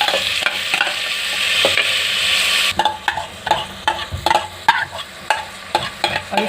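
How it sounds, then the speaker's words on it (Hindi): About 400 grams of soaked rice fries with whole garam masala in a pot for prawn pulao: a steady sizzle at first, then repeated close scraping and clinking strokes as the grains are stirred. "तो हम इस चावल को इसमें फ्राई कर लेंगे।"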